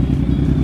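A Kawasaki Z1000 superbike engine roars in a brief, close, loud burst with a rough, throbbing rev.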